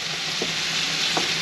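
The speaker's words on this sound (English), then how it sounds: "we've got to brown the mince and the onion off first, so we'll do that in the frying pan here" Beef mince browning in about a teaspoon of oil in a frying pan, with onion, at a camp kitchen: a steady close sizzle throughout, with a couple of brief stirring scrapes.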